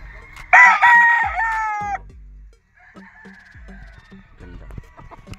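A straight-combed gamefarm rooster crows loudly and close by in one long call, then faint clucks and small farmyard noises follow with a quiet voice in the background.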